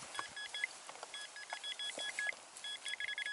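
A Rutus metal detector gives out repeated short electronic beeps in quick clusters as it passes over buried coins outdoors, faint beneath a wash of background noise.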